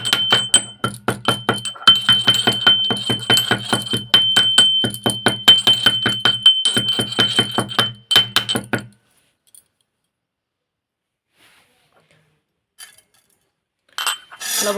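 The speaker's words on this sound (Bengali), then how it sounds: "তো লবঙ্গটা আমি একটু থেতো করে নেব" Cloves are crushed with a pestle, giving quick, rhythmic metallic clinks and taps for about eight seconds, close and fairly loud, followed by near silence and a few faint sounds at the end.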